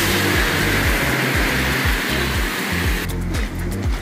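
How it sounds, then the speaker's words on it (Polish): Heavy rain pours down around a car driving along a road in Georgia, a loud, steady wash of water and road roar with rhythmic low thumps, close and continuous with no talk. "Leje deszcz."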